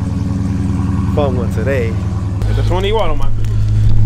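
A car engine at a car meet idles with a deep, steady rumble beneath close conversation, then grows noticeably louder and heavier partway through.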